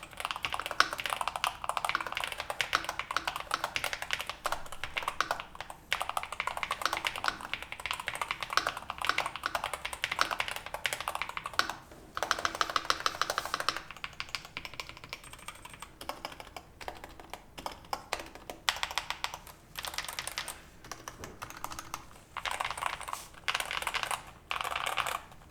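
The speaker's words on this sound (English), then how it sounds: "which makes the typing sound quite good for a big brand gaming keyboard" Continuous rapid typing on a Corsair full-size Hall effect gaming keyboard with an all-plastic structure, crisp clacky keystrokes in steady bursts with brief pauses, close and alone.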